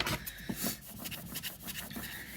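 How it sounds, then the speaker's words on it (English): A scraper is pressed across adhesive vinyl on a wood board in short, close rubbing strokes, a dry, steady scratchy friction that repeats quickly with no talk over it. "I'm going to scrape it onto here and make sure that the adhesive vinyl is going to stick to the wood"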